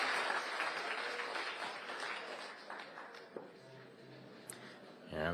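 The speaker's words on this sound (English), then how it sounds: "Get ready for the roar." Crowd applause at a professional billiards match in Saint Louis, a broad steady roar of clapping that gradually tapers off, with a commentator speaking over it.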